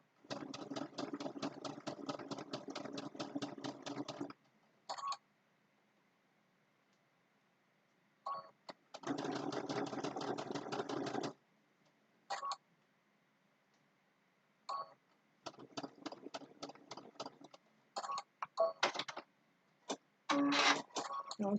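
A sewing machine stitches a Christmas table runner block in rapid, even-paced runs, stopping and starting several times with short bursts and quiet gaps between them.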